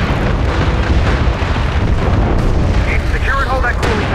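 An explosion destroys a mortar battery in a combat video game, heard as a loud, sustained rumbling blast with crackling debris and distant battle noise, and a brief voice and electronic chirps near the end.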